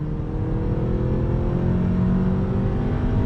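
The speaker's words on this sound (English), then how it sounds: "let me just go ahead and show you the acceleration" A 2020 Kia Optima S sedan accelerating through the gears, heard as a steady engine drone from inside the car with a gently rising pitch, fairly loud and without talk.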